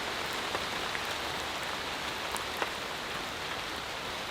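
Heavy rain pours steadily through a humid forest, a dense, even hiss with scattered nearby drips and patters, with no voices.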